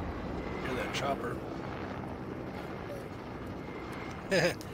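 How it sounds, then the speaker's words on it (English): A helicopter in the video game Fortnite drones steadily at moderate distance, a continuous low engine and rotor rumble with brief bursts of game noise over it. "Hear that chopper."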